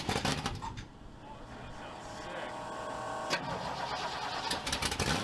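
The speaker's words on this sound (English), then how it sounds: "I'm going to start it because I want to see what it sounds like." A truck engine with a freshly tacked X-pipe exhaust and no muffler cranks and fires up, settling into a rough, rumbling idle that grows steadily louder, close by and outdoors.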